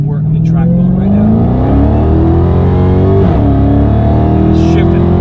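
A Chrysler Hellcat in track mode accelerates hard, its engine note climbing steadily through the revs with a brief shift break near the middle, loud and close inside the car, with a voice talking over it.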